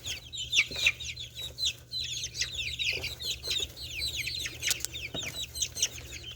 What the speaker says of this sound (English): Those are the quail that hatched last week.